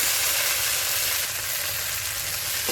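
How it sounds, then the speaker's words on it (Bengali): Potatoes fry in a pan with sesame chili paste for a potato curry, giving a loud, even, close sizzle that holds steady throughout. "তিল ঝালও এর মধ্যে দেওয়া হয়েছে দিয়ে ভালো করে আলুগুলোকে একটু ভেজে নিতে হবে"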